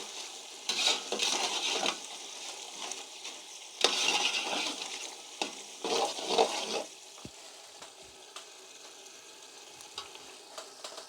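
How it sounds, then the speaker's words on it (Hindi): A spoon stirs masala in a pot for matar pulao. Bursts of scraping and sizzling come and go, then die down to a quiet background hiss, with no voices. "कोशिश किया करें कि चम्मच को आप चलाएं, नीचे लगे ना मसाला।"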